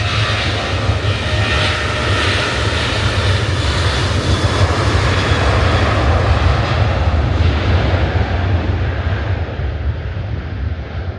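A jet airliner taking off on the runway at Manchester Airport, a loud continuous roar heard close up for the whole stretch, with some wind buffeting the microphone and no talk.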